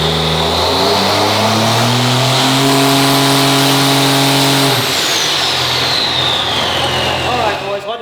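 A race car engine on a dyno pull revs loudly and climbs steadily in pitch for several seconds, then abruptly drops off and settles into a rougher, lower roar.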